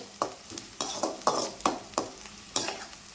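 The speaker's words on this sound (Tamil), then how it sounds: "பூண்டு போட்டு வதக்கிறேன் இப்போ வெங்காயம் வந்து இந்த அளவுக்கு வதங்கியாச்சு" Garlic and onion sautéing in a pan for a Tamil broad bean curry, with a steady sizzle broken by regular scraping stirs of a spoon, close and alone.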